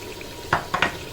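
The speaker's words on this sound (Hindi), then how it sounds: "मसाले को अच्छे से ये भून लिया, जिसमें मैं ये टमाटर शामिल कर दूंगी" Masala frying in a pot as tomatoes go in, with a steady soft sizzle and three sharp utensil scrapes or clatters against the pot, close and alone.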